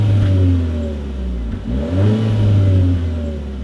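A 2016 Chevy Trax with a turbocharged 4-cylinder accelerating hard in a 0-60 mph run, engine note climbing steadily, dipping briefly at a gear shift, then rising again loud and close.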